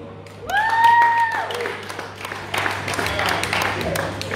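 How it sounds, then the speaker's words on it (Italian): Audience at a metal concert in a club in Paderno Dugnano, Italy, breaking into applause and cheering after the band is announced, with a sustained feedback-like tone near the start and clapping filling the rest, moderately loud. "Un applauso."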